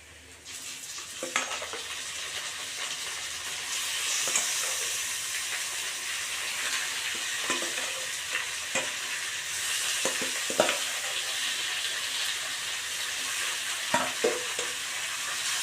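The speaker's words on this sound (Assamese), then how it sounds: "মাংসখিনি ভালদৰে ভাজি ল'ম।" Chicken meat and cinnamon pieces fry in hot oil with a steady, dense sizzle, broken by occasional stirring clatters from a spoon in the pan; no voices.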